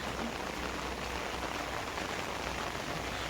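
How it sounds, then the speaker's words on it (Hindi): Heavy monsoon rain falls on a village during a red alert, a thick, even roar of downpour that fills the scene continuously and close by, with no talking over it. "प्रबल रु प्रबल वर्षा आसूची"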